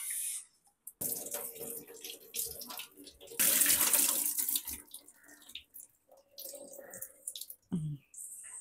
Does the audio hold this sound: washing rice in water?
yes